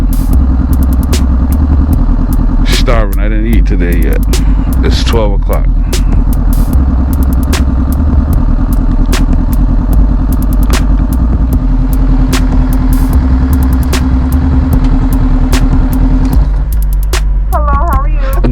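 A 2021 Honda CBR500R motorcycle idles steadily at a drive-thru, a low even engine drone running throughout while someone talks over it.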